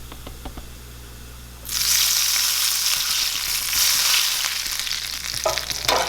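Bumbu merah sauce for fried pasta hits a hot pan and bursts into loud, steady sizzling after a quiet start, crackling continuously with some stirring near the end.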